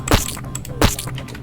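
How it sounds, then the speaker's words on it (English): In a first-person video game, a sniper falls and hits the pavement, heard as two quick, heavy splattering thuds close together, with no voices. "That sound is the sound of the sniper hitting the pavement."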